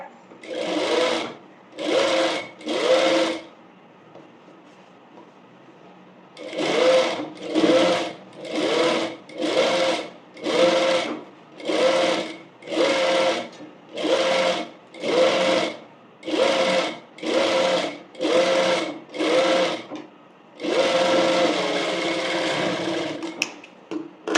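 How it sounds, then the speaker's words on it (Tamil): A sewing machine stitching a cross piece onto a frock neck runs in loud close bursts: three short runs, a pause, then a long regular string of rapid stitching bursts ending in one continuous run. "இதோட சென்டரில் நான் ஸ்டிச் பண்ணுறேன்"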